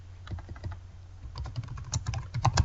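Grading notes being typed on a computer keyboard: steady, close key taps that start sparse and pick up into a quicker, busier run.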